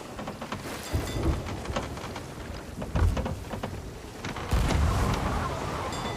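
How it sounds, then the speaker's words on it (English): A heavy storm at sea in RuneScape 3, with constant rain and sudden loud rumbling thunder crashes, including a strong burst near the end, with no voices over it. "it is going to take damage from the waves during a storm as thick as this"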